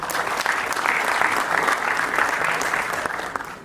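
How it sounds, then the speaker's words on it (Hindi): Steady applause from an auditorium audience at a mushaira and kavi darbar welcoming a poet to the stage, dense and sustained throughout without spoken words. "तालियों से इस्तकबाल।"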